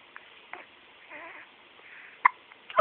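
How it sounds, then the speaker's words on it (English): A baby hiccups in short sharp bursts, a few small catches early and two stronger ones near the end, close over a quiet room with faint murmuring. "A little in the teacup is good for the hiccup."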